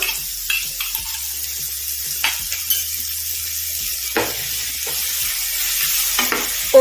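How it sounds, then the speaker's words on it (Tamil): Ginger garlic paste sizzles and spits in a hot pan while a spoon stirs and scrapes against the metal now and then, close up and without voices. "ஒரு நிமிடம் நல்லா வதக்கி விட்டுக்கோங்க"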